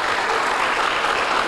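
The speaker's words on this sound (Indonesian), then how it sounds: "tepuk tangan untuk" Applause from a university audience at Universitas Dian Nusantara, a dense, steady wash of clapping filling the whole short stretch with no voices over it.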